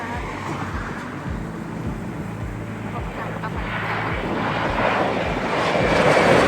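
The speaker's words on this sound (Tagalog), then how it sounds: "It's been a long time na may maglaland po dito na malaking Philippine Airlines." A large Philippine Airlines airliner landing at Fukuoka airport on a very cold day: a broad, continuous jet roar that grows steadily louder and brighter toward the end, with some wind buffeting.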